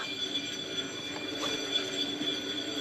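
A faint metallic whir and grinding of a worn, metal-on-metal off-road caravan wheel bearing spinning freely on a jacked-up wheel, with a thin high whine over a steady hum and occasional light scrapes.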